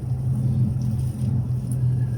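A 2018 Infiniti Q50 Red Sport 400 with a twin-turbo V6 accelerating, heard as a steady low engine rumble from inside the car at a constant level, with no talk over it.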